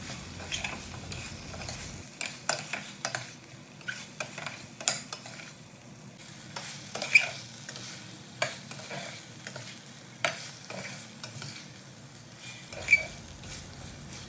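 Tomato puree is sautéed over a medium flame for quail masala curry: a soft, low sizzle broken by frequent sharp spatula taps and scrapes against the pot.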